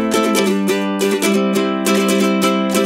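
Fast ukulele strumming in a down-up pattern, dense and driving with steady rapid strokes, loud and close with no voice over it.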